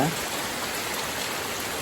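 Summer rain falling steadily on an overgrown empty plot, a dense continuous hiss of drops close by, unbroken for the whole moment.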